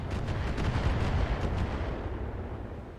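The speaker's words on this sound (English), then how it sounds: "Oh, here comes that mortar fire." Mortar fire in the mech combat game BattleTech, heard as a continuous loud rumble of overlapping booming impacts that slowly fades over a few seconds.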